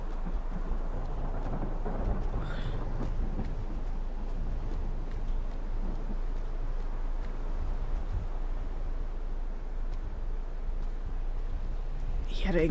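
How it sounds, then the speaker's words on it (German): Low, sustained thunder rumbles through a stormy scene in the video game Aporia: Beyond the Valley, a steady dense roar with rain-like hiss that stays fairly even throughout, ending in a brief brighter burst. "Ich hatte irgendwie so ein Donnern oder irgendwie so ein Dröhnen."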